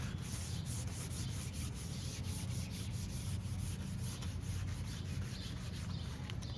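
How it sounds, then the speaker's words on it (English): Edges of a Kia car door are scuffed by hand before adhesion promoter goes on, giving a quick, continuous rhythmic rubbing and scraping, close and steady with no speech. "You want to get the ends here too, so we're going to scuff the ends up, get all this stuff off of it"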